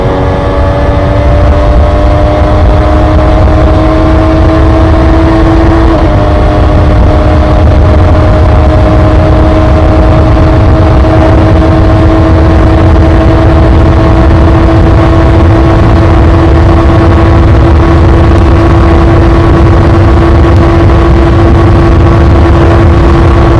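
MV Agusta Superveloce 800 motorcycle engine under way, a loud, continuous steady drone with a single brief tonal shift early on, otherwise holding an even pitch for the whole stretch with no talk.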